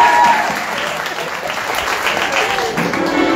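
A youth camp crowd at Gospel Center church in Mumbai breaks into loud, continuous applause, a full wash of many hands clapping at once with a voice faintly underneath.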